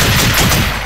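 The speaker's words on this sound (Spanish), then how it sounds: "¡Disparos! ¡Disparos! ¡Disparos! ¡Disparos!" Gunfire in the Arma 3 video game, a dense, loud, continuous burst of rapid shots filling the whole moment with no talk over it.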